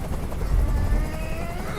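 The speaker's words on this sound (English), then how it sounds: "I can't stand that noise anymore. Tell that helicopter to get out of here." A helicopter in the video game Detroit: Become Human throbs with a low, steady rotor rumble that pulses faintly and fills the short moment without any talking.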